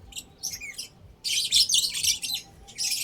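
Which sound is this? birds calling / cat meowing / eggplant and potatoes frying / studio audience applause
birds calling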